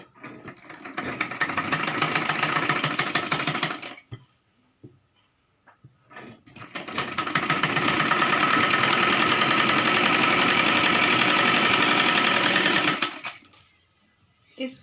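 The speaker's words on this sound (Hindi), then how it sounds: "बिल्कुल ऐसे हम अपने पूरे नेफे की सिलाई कर लेंगे।" Sewing machine stitching the waistband of a Rajputi lehenga runs loud and close in two long, steady mechanical bursts separated by a short pause of faint handling noises.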